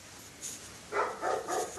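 A big neighbors' dog barks in a video game, a few short muffled woofs in quick succession at a moderate distance.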